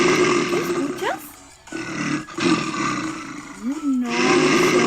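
A polar bear gives several deep, loud roars close by, broken by short pauses, with no speech between them.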